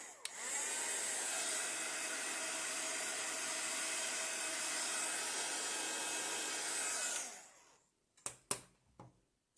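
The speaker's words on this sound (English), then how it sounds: "Now I need to be careful with the heat tool so I don't melt." A heat tool drying a paint layer on a mixed media panel, a steady close whooshing blower roar for about seven seconds that cuts off, followed by a few light handling knocks.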